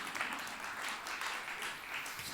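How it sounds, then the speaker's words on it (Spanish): An audience in a church sermon applauding steadily, a dense wash of many hands clapping at once, moderately loud and continuous without a break. "Darse un aplauso, qué linda historia hemos contado juntos"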